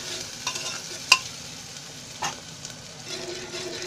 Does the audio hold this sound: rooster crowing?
no